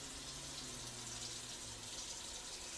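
Cup of water poured over steaming Haitian-style fish in a pot, a steady close splashing wash that runs without a break.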